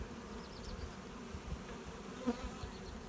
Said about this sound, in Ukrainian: Ось ця бджолородина вже займає